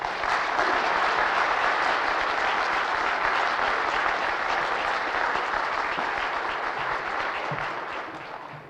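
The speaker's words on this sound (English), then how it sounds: "Would you come up and give him a round Nova Scotian applause?" A debate audience in Nova Scotia applauds warmly as a speaker comes up, a thick, even wash of clapping that holds steady for several seconds and then tapers off at the end.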